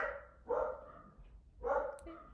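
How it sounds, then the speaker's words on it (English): Dogs bark in two short bursts, moderately close, separated by a brief pause, with some whimpering yips in between. "The dogs are going crazy."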